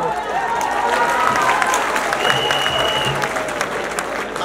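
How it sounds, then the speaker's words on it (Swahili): Sustained applause from an audience greeting Wajackoya alongside Moses Kuria at a Kenyan political gathering, a dense, steady wash of clapping held at even loudness throughout, with a few voices faintly mixed into the crowd noise. "Tusindikize Wajackoya na makofi"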